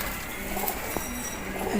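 Racing pigeons cooing, with a few soft low coos, one near the start and short ones toward the end, over steady background noise and faint bird calls.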